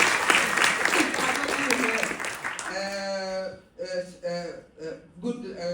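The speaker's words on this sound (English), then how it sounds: "Can you give them a round of applause?" Audience applause fills a hall at the opening of the Somali Week Festival in London, a dense wash of clapping for about two and a half seconds before a voice takes over and talks on alone.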